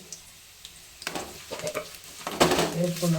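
Drumstick leaves fry with onions and mustard seeds in a pan, a soft sizzle building as a spoon stirs with a few louder scrapes toward the end.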